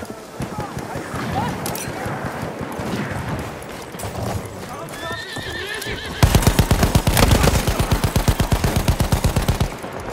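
A Lewis gun machine gun firing in a war video game on the Volga River: a long, loud, rapid rhythmic burst in the second half, preceded by battlefield noise, horse neighs and shouting voices.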